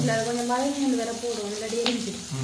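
Garlic frying in a pan for a home-cooked prawn curry in a Jaffna kitchen, giving a steady, close sizzle with stirring throughout and a faint voice running underneath.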